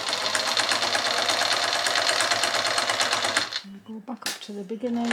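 Sewing machine stitching a quilt, running in a fast steady rapid rattle for several seconds close by, then stopping as someone speaks.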